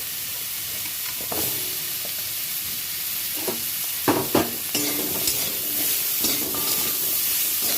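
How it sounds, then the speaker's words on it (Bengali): Cut pumpkin pieces hit a hot frying pan with oil, giving a steady soft sizzle broken by several sharp clatters and stirring scrapes, close and moderately loud. "এর মধ্যে আমি কেটে রাখা কুমড়োগুলো দিয়ে দিলাম।"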